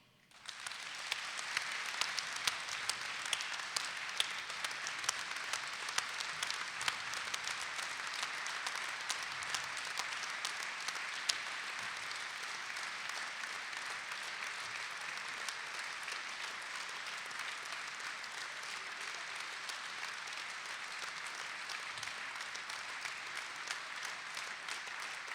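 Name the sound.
audience applause in tribute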